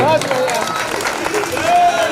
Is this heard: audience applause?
yes